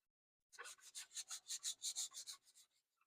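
Light hand sanding of a wooden rifle stock on a Remington 341 Sportmaster, sandpaper stroked with the grain in about a dozen quick, even rasping passes, close and clear with no talking.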